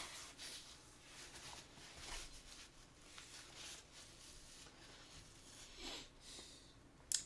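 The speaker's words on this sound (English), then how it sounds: "I gotta blow my nose quick." Someone still getting over a cold blows their nose quietly indoors, a few soft, breathy bursts over a low hiss with no talking.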